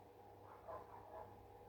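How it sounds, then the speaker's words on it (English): A dog barks outside, two faint, distant yaps in quick succession over a quiet room hum. "I'm trying to talk over dog barking."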